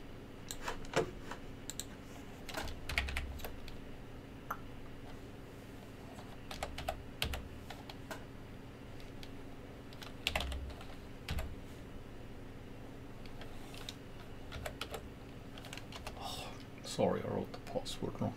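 Someone types a password on a computer keyboard with quiet, irregular clicking keystrokes in short bursts over a low background hum; faint voice-like sounds occur but no clear speech.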